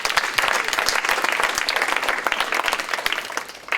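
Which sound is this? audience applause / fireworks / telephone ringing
audience applause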